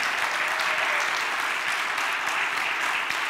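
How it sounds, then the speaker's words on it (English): Steady, dense applause from a conference audience at a leadership training keynote, loud and continuous throughout with no pauses, filling the hall evenly from start to finish. "So let's give Brian a round of applause from the start."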